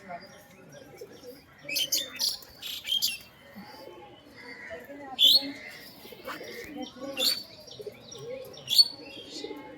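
High flyer pigeon chicks being handled at close range, giving soft scattered chirps and coos in short bursts, with brief wing flutters and quiet background talk.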